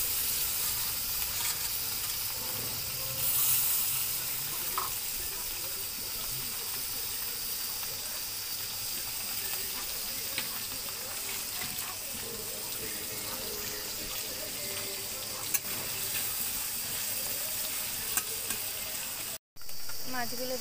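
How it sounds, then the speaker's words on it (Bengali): Small chuna fish coated in salt and turmeric fry in hot mustard oil in a home kitchen, giving a soft, steady sizzle and crackle that continues without talk. "মাছগুলো দেখো ভাজা হচ্ছে"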